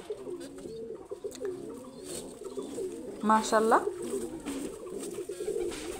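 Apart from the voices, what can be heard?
pigeons cooing, a pair of Palla-line pigeons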